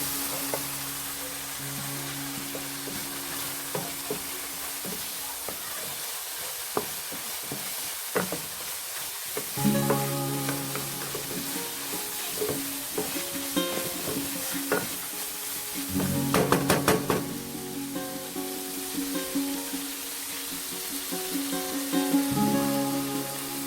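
Vegetables for chow pan sizzle and crackle in a hot pan with soy sauce, with intermittent stirring scrapes and louder bursts of frying throughout, no voices.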